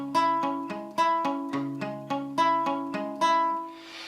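An acoustic guitar plays an arpeggio with palm-muted picking on the strings, a close, soft, quick run of plucked notes in a steady rhythm that rings out at the end.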